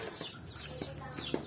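Chickens clucking inside a coop on a small family farm, with soft scattered calls and brief flutters over low background rustle.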